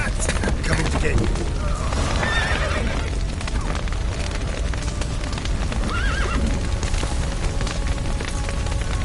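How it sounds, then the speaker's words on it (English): Horses neigh and whinny amid galloping hooves in The Witcher 3: Wild Hunt gameplay, loud and continuous with rumbling crashes and voices shouting throughout. "The horses!"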